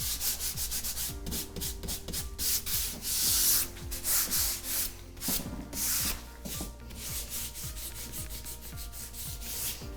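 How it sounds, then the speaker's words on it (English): A concrete-look finish coating is rubbed in and feathered out by hand on a TV mantle, giving a continuous close scratchy rubbing with repeated strokes that rise and fall in intensity, alone without speech. "we can just kind of rub in, feather out these edges, rub in the corners, and just make it look really nice"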